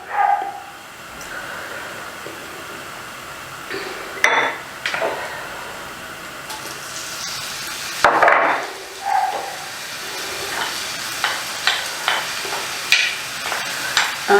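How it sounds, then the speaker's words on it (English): Garlic fries in oil in a pan, with a soft, steady sizzle under repeated scraping and stirring strokes and a few sharp utensil knocks against the pan. "you don't even need to fry the garlic for too long"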